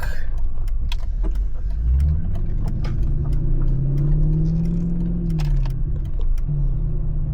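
Mercedes-Benz E55 AMG with its supercharged V8 accelerating, engine note rising and falling through the revs over a constant deep rumble, heard from inside the cabin with light rattling and no talk.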